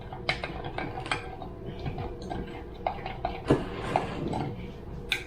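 Custard being stirred into a paste in a bowl for a coconut jam sponge cake, with steady scraping and irregular light clicks of a utensil against the bowl, close and moderately quiet.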